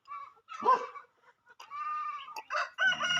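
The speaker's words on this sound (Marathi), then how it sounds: "कोंबडा आहे" A rooster crows close by in a village yard where fowl are being sold: a short squawk, then two drawn-out crows, loud and clear with no talk.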